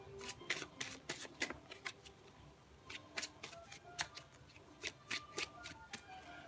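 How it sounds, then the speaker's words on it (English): A tarot card deck being shuffled close up, with quick bursts of crisp riffling and flicking cards arriving in irregular clusters with short pauses between them. "Okay, Aquarius, I'm going to shuffle your deck now."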